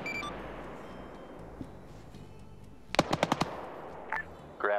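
Gunfire in a video game: a quick burst of about five sharp automatic shots, fairly loud against a low background hum, with a scattered faint crack before and a thud after.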